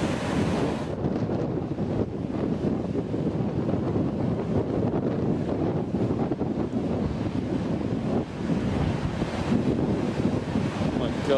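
Giant ocean waves crash and surge against the shore in a loud, continuous roar. Heavy wind buffets the microphone throughout, and faint voices are partly buried in the noise.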